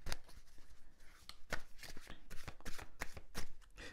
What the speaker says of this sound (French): on va prendre plusieurs cartes du tarot ici